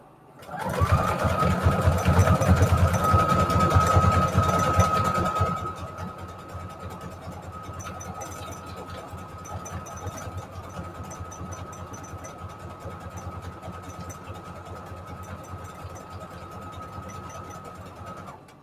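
A sewing machine stitches an index card tag, running loud and fast for about five seconds, then dropping to a quieter, steadier hum with a faint whine as it continues stitching close by.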